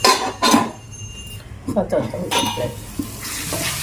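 Green chillies and onions frying in oil are stirred in a pan for a fish pulusu. Loud sizzling comes with sharp utensil scrapes and clinks against the pan, and a person talks over the cooking.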